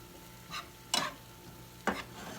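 Ground beef browning in a pan for a potato casserole, a spatula stirring in three soft scraping strokes over a steady low sizzle, close and quiet with no voices.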